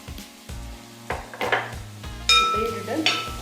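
Curry leaves drop into a hot pan holding chicken masala and a little oil, giving short sharp crackling bursts of sizzle and clinks of a utensil against the pan over a low steady hum.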